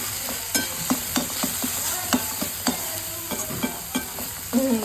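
Spices for paneer bhurji fry in a kadhai with lively sizzling and spattering, with repeated scraping stirs at an irregular rhythm; no talking.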